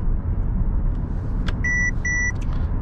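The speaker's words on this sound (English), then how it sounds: "Blind spot monitor" Two short electronic warning beeps from the blind spot monitor of a 2021 Mercedes S500 Long sound over a steady cabin road rumble while driving in the city.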